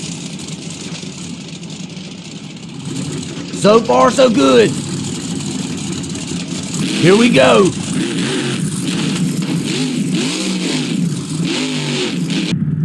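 The Earthshaker monster truck's engine revs in BeamNG.drive, two sharp rising bursts over a rumbling idle before settling into a steady drone, with someone talking over it.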